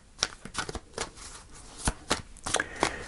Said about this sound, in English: I'm going to shuffle one more time